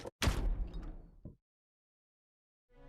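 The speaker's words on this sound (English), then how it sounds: "We repeated the process 2 more times before we reached the final door and opened it." A decompression chamber door opening in the game Virtue's Last Reward, heard as one sudden loud mechanical whoosh and thump that fades out within about a second, then silence.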